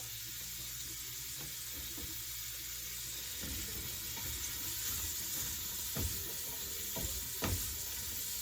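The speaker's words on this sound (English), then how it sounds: "So we're going to go ahead and just sweat these onions out." Onions sweat in a pot for chicken enchilada soup, a quiet continuous sizzle with occasional scraping stirs and soft clicks over the few seconds.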